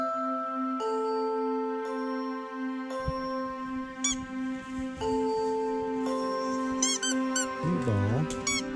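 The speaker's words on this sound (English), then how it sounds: "Bring him a toy, a squeaky toy." A squeaky dog toy being squeezed, giving a series of high, tonal squeaks over a sustained whine, some bursts rapid and warbling, loud and close with a faint background hum.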